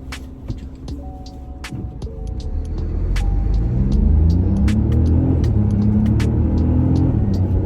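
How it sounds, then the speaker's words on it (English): A 2020 Nissan Juke pulls away hard from traffic lights, its engine rumble rising steadily and loud as it accelerates, with trucks close by and a few clicks and knocks inside the cabin. "at the lights, let's see how it accelerates out"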